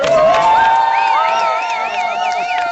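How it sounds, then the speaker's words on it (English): A crowd at a national march in Ferguson cheers and whoops loudly, with shouting voices and rising, wavering yells layered over a dense, sustained roar. "let's give the young people a round of applause"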